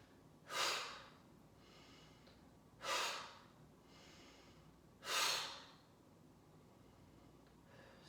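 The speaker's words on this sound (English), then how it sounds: "Exhale through the mouth." Three strong exhalations pushed out through the mouth during a vinyasa yoga flow, spaced about two seconds apart, each a loud, breathy rush that fades into quiet room tone.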